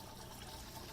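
Water flowing through a pond swirl filter on a duck pond, entering by a pipe and circling slowly: a steady, close, even rush of water with no breaks, filling the whole second.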